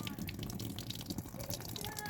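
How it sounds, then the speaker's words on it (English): Water pours off a garden planter from Tractor Supply, a close splashing and trickling with scattered drips, fairly quiet and irregular, with faint sounds of a person in the background. "there's a ton of water on here, so I'll pour that off"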